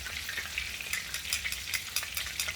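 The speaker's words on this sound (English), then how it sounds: "you can hear that oil kind of slowing down a little bit and frying them nice" Steady oil sizzling as meatballs fry, a dense crackling hiss with small popping bursts throughout, close up and without speech.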